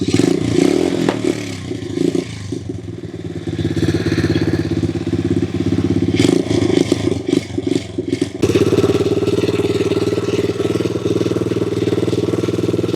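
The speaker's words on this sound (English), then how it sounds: "So we just got the bike running" A kick-started motorcycle engine, a marketplace junk bike, runs steadily and loud from start to finish, its idle shifting slightly partway through, with clattery mechanical rattles over the close, continuous drone.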